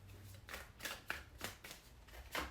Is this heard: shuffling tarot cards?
yes